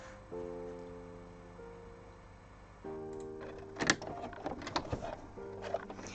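A sewing machine stitches fabric pieces in two steady humming runs separated by a pause, with a cluster of clicks and knocks in between, quiet and close with no talk.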